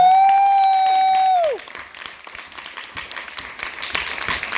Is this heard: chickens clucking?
no